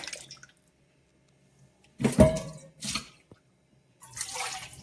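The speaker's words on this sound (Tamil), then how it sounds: "சுத்தமாக அப்படியே அலசிட்டிங்கன்னு சொன்னால் இந்த எண்ணெய் பிசுக்கு பூரா போயிடும்" Water rinses oily grease from a cooking pan in a home kitchen, heard as a few short, close splashes and pours separated by quiet gaps.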